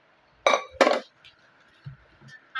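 Metal clinks as a heavy pressure cooker is handled in a home kitchen: two sharp, close clanks in quick succession, followed by a few faint knocks and a last light clink.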